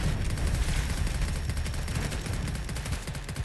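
Cannon fire and battle explosions from the video game Arknights, with dense, loud, repeated booms and blasts overlapping in a continuous barrage and no talk.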